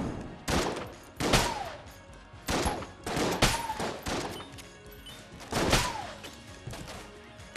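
Shotgun blasts in the dungeon-crawler game Enter the Gungeon: loud, sharp bursts repeat roughly every second, several with a short falling reload tone after them, alone with no talk.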